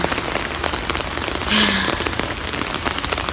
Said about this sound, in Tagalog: Sinabayan pa ng ulan.